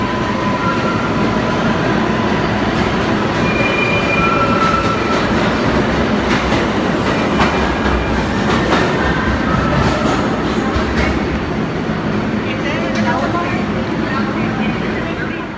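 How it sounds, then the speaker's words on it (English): Loud, continuous rumble of subway trains in the busy Hudson Yards–34th Street station on the 7 line extension in New York, with clattering wheels and occasional squeals, voices mixed into the din. "this is the most used subway station in the system."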